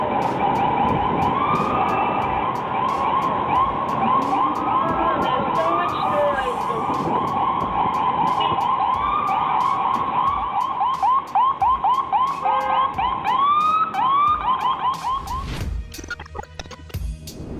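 An ambulance siren wails on and on in steady rising and falling sweeps, loud and close. It cuts off near the end into rough background noise.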